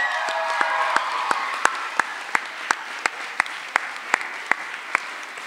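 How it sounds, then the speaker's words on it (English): Audience applause at a school soirée thanking backstage staff, a steady spread of many hands clapping with a few sharper, louder claps standing out in a regular rhythm, fairly close and without talk. "Can we just say a big round of applause for Phil and Ant at the back there?"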